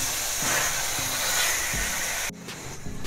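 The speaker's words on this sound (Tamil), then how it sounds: "இப்போ சிக்கனை வறுத்து வச்ச சிக்கனை போட்டு நல்லா கிளறிக்குவோம்." Fried chicken pieces stirred in a hot pan for chicken Manchurian give a steady, loud hiss of sizzling oil with soft scraping knocks, then the sizzle suddenly drops to a quieter crackle near the end.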